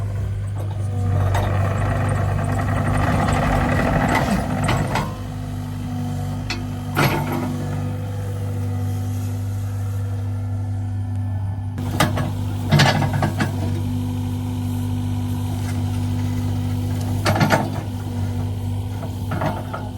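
A mini excavator smoothing out dirt, its engine holding a steady loud drone with a tonal hum, broken by a few sharp mechanical clanks and knocks as the bucket scrapes and works the soil.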